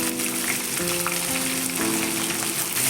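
Brinjal (eggplant) sautés in a pan with a steady, loud, close sizzle that runs throughout without pause, with no talking over it.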